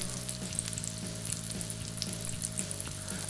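Steady crackling sizzle of Japanese hambagu burger patties frying in a hot pan, continuous and fairly close, with no voices.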